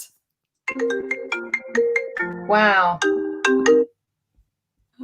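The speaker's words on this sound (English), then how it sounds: "my laptop was ringing for some reason" A laptop rings with a bright, repeating electronic ringtone melody, loud and close, in a run of tonal chimes that stops after about three seconds; one person speaks briefly near the end.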